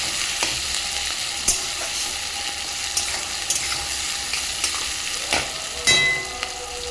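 Onions sizzling in a pan with green chillies for chicken kosha, a steady crackling fry with intermittent stirring scrapes and clicks, close and moderately loud.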